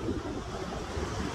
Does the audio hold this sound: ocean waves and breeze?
yes